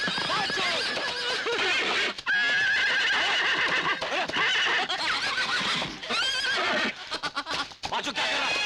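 A horse neighs and whinnies repeatedly at close range, loud shrill bursts mixed with hoof clip-clops and some voices nearby.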